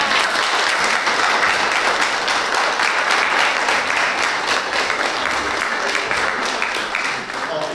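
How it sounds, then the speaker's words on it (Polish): A large audience at a Christmas Eve meal for seniors claps loudly for the kitchen crew, producing a thick, continuous roar of applause that barely dips from start to finish. "Brawa, kochani, brawa dla nich."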